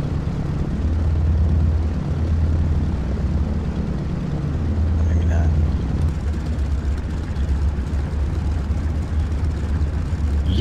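A Bristol Blenheim bomber in the IL-2 Cliffs of Dover flight game, its engines giving a loud, steady droning roar that holds without a break throughout.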